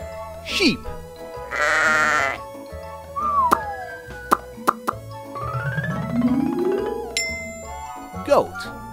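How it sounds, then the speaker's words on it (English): A sheep bleats in a wavering, nasal call, set among a quick run of other animal and novelty sound effects with dings and plops. "Sheep."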